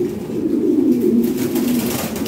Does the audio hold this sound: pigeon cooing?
yes